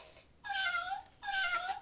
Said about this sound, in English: this is a dog. And the dog goes, puppy.